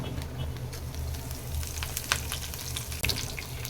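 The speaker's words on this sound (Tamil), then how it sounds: "எண்ணெய் சூடானதும் கொஞ்சமாக கடுகு கொஞ்சமாக ஜீரகம் ரெண்டுமே சேர்த்து கொஞ்சமாக இப்படி போட்டுக்கோங்க" Mustard seeds, cumin and curry leaves sizzle steadily in hot oil for a prawn fry, a continuous close crackle with a few sharper pops and a brief gap near the end, no talking.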